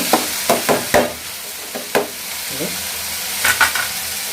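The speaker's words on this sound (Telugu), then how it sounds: "బాగా మళ్ళీ కలుపుతున్నాం. ఇంకా 1/2 minute కలిపిన తర్వాత" Broad beans frying in a pan are stirred, giving a series of scraping strokes and soft clinks of a spatula over a steady sizzle, with brief pauses between bursts.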